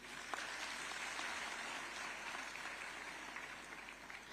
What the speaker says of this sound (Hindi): आपकी अनवरत तालियां अपेक्षित हैं